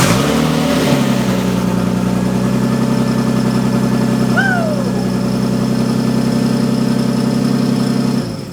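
A Nissan R32's engine cranks and catches, then settles into a loud, steady idle up close, with a brief rising rev partway through.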